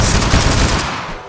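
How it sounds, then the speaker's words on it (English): Flintlock gunshots crack in a video game, forming a loud, dense burst of rapid, overlapping shots that tails off toward the end. "Dude, I'm missing all my flintlock shots."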